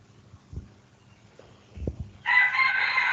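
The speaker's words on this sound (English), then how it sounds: "if you hear the sounds of a chicken, it's okay because that's a chicken, okay, from my neighbor" A rooster in a neighbour's yard crows loudly and clearly near the end, a long drawn-out cock-a-doodle-doo after a few soft thumps in an otherwise quiet room.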